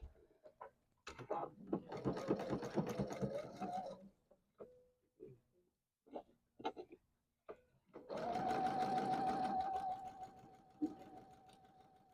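A sewing machine stitches a quilt block in short stop-start bursts of rapid mechanical clatter, then runs in a longer steady stretch, close by and with no talking.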